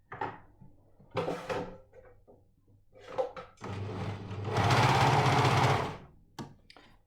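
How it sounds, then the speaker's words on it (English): An overlocker stitches layers of knitted jumper fabric together, starting with short stop-start bursts and handling noises before a sustained, loud, rapid mechanical whir for about two seconds, then quiet clicks as it stops. "just overlock those together"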